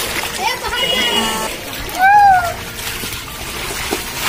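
Water splashing and sloshing nearby as people bathe in pooled rainwater, with children's voices and chatter mixed in.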